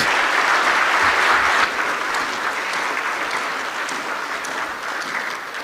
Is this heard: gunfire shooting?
no